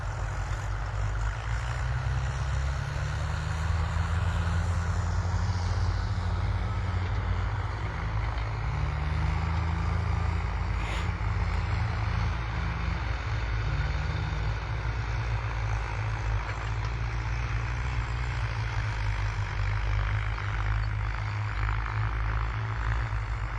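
Tractors grind steadily across standing crops in fields at Babera village, Bansur, with a JCB excavator also working nearby; a continuous, loud low engine drone runs throughout with no talk.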